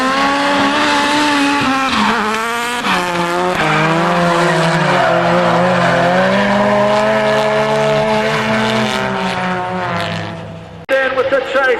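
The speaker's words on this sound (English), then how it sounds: "So this is just warming up the tyres." Time attack race cars on a warm-up pass at the World Time Attack Challenge, tyres squealing and skidding in long wavering screeches over revving engines, loud and continuous, with a commentator talking over it.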